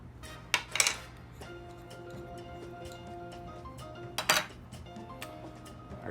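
Seasonings and pepper are stirred together in a bowl while making jalapeño poppers, with a few sharp clinks of utensil against the bowl and soft scraping between them, close and without talk.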